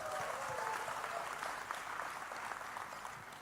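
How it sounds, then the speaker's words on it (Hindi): A large crowd at a Mumbai film trailer launch bursts into loud, sustained applause, a dense steady wash of clapping that carries through the whole stretch with no pause. "जोरदार तालियां हो जाएं."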